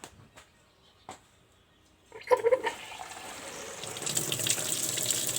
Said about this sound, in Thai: อ่าทีนี้เดี๋ยวผมจะไปเปิดน้ำดูนะครับว่ามันจะออกหรือเปล่านะครับ